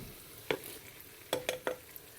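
Ginger and garlic go into a pan of browning onions in oil, giving a few short stirring and sizzling clatters at spaced intervals, faint and close, with no talk.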